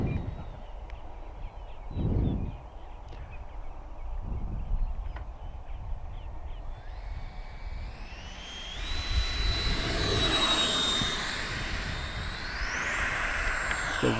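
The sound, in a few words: XFLY Sirius 80mm RC jet flying past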